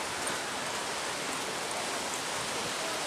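Steady rain falling outdoors, a dense, even hiss of drops that stays constant and fairly close throughout, with no voices.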